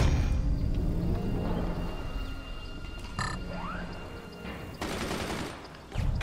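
Machine gun fire rattles in the multiplayer game Forts, a dense, steady chatter of rounds under game noise, with a brief louder burst near the end.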